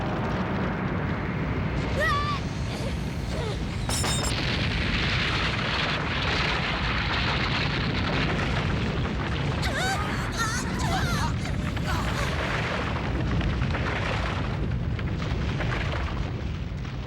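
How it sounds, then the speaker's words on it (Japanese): Anime storm scene: a dense, continuous roar of wind and rumbling fills the whole stretch, with bursts of crackling noise and shouting voices breaking through over the loud, unbroken din. "おーい、嵐が来るぞ。"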